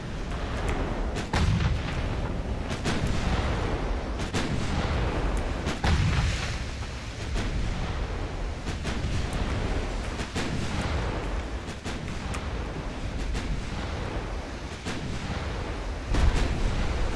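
A battleship armed with sixteen 20-inch guns fires in the naval game Ultimate Admiral, producing repeated heavy booming salvos that rumble continuously over about seventeen seconds, with loud deep blasts and no talking.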